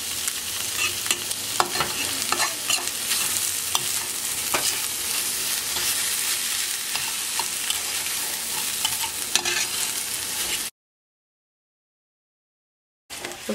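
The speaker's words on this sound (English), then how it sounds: "the rice is all done, and we're just cooking it in the skillet like it's stir fry" Rice and bully beef stir-frying in a skillet, a steady loud sizzle with clatter from stirring for about eleven seconds, then a sudden cut to silence before a brief return at the end.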